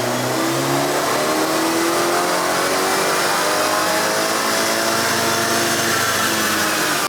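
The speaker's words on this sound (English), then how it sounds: "let's go ahead, click map 2, and do a dyno run" A BMW 330i with the B48 engine runs on a dyno on JB4 map 2 with 93 octane fuel, a loud, continuous engine roar climbing steadily in pitch through a full pull, with no talking.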